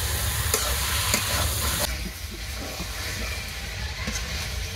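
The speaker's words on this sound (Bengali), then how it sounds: "এবার আমি ম্যারিনেট করা মাংসটাকে দিয়ে দিচ্ছি।" Marinated chicken with spices stir-frying in a pan gives a steady, close sizzle, with occasional scraping strokes of a spatula stirring the meat.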